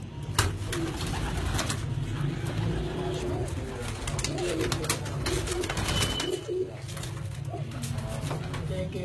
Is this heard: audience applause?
no